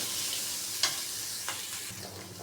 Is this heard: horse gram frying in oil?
yes